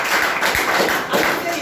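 Loud clapping from a seated audience at a motivational student talk, a dense steady patter of many hands filling the short moment without any voice.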